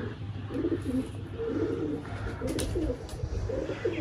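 Pigeons coo repeatedly in soft, throaty phrases close by, with faint chirps and a low background hum.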